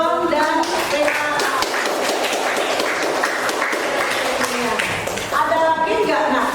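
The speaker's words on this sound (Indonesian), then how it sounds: "Tepuk tangan buat John dan Rena." Students in a classroom clap in a short, patterned rhythm, with bright, slightly uneven claps running throughout and voices mixed in among them.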